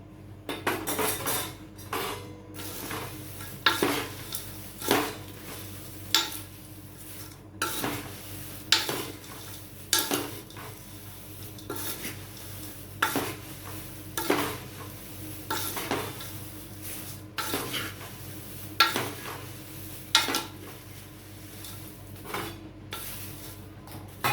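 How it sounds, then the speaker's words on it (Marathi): Fried peanuts, dal and coconut stirred in a pan for poha chivada, a spoon scraping and clinking against the metal in a steady repeating rhythm over faint background noise. "शेंगदाणे, डाळ आणि खोबरं तळलेलं आपलं हे सगळं मी यामध्ये आता मिक्स करून घेते."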